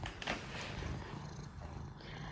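A cat purrs softly and close, a steady low rumble that carries on throughout.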